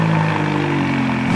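A sports car engine runs close by with a steady, loud, droning hum and no voices over it.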